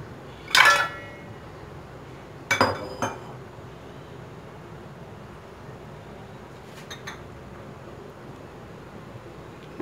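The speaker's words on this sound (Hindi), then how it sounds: "मैंने एक बर्तन लिया है जिसमें मैं गोश्त शामिल कर रही हूँ" Metal pot takes meat for bhindi gosht, with two clear clinks and rattles of cookware a couple of seconds apart, then quiet kitchen background and a faint tap or two.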